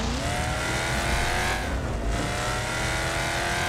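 A race car spins out in the Wreckfest racing game, a loud, continuous engine roar with tyre noise that holds steady throughout, briefly dipping midway before surging back.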